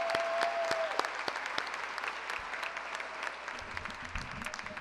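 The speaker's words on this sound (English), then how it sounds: "Round of applause for the talent here at Reuther High School." Audience applause at a high school graduation ceremony for a student choir, a faint, distant patter of clapping in a large hall with a few sharper individual claps.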